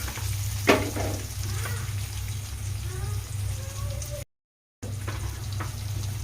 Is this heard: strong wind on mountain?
no